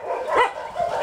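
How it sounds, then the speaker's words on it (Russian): In a shelter enclosure holding a mother dog with puppies, a dog gives a short, close, slightly whiny bark, a single brief yelp heard clearly. "там у нас сидит мама с маленькими щенятами"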